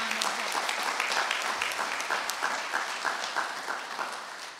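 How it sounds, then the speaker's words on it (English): A church congregation at a Sunday worship service breaks into a round of applause, a lively wash of many hands clapping with a few stronger individual claps, slowly tapering toward the end. "give yourself a round of applause"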